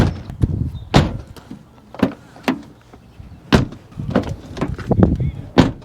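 A Rover 45 car door is shut repeatedly during a sound-deadening test, giving several sharp, close thuds and clunks spaced a second or so apart, with faint handling noises between them.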